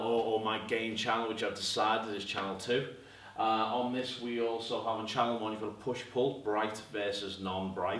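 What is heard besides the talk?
No distinct noise like a dog, phone or traffic.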